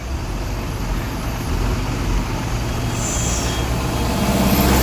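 Lorries rolling down a slope on a hill road, a steady loud engine rumble with a hiss of air brakes near the end, no voices.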